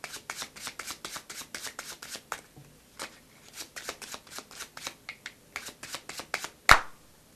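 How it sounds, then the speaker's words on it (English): Playing cards being shuffled overhand, a rapid run of soft, crisp slaps in quick rhythm, close up, ending with one sharper snap. "Groups of cards are taken from the right hand and dropped onto the left hand"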